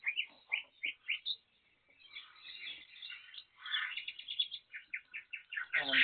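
Pet therapy birds chirp inside a kennel, close and fairly loud: quick bursts of bright tweets in short rhythmic runs, a busier stretch of overlapping chatter, then a final squawk, with no voices.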